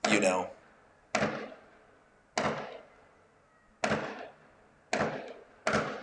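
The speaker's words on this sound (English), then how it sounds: "there's like fireworks going off everywhere" Six sharp, booming bangs at uneven intervals, each trailing off in a brief echo, like fireworks going off at a distance.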